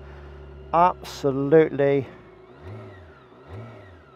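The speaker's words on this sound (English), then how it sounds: "creamy smooth, very turbine kind of sounding engine, isn't it?" A 2023 BMW K1600GTL motorcycle engine runs at a smooth, low, steady idle hum beneath a man's close speech, continuing quietly once the talking pauses.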